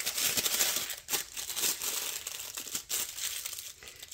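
A small handheld torch flame plays over a surface of curing resin, giving a close, soft hissing crackle with uneven flutters and brief dips, no voices present.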